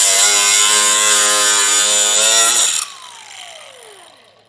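A power tool saws through the front of a 2024 Jeep, where a tow base plate is being fitted. A loud, steady, buzzing whine holds for nearly three seconds, then cuts off abruptly and spins down in a falling tone.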